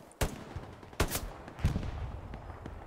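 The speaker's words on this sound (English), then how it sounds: "I don't even know where he is, I'm just shooting." Gunfire in the WWII shooter Hell Let Loose, fighting around Mortain: three sharp, loud shots spaced about half a second apart, each with a rumbling tail, no voices.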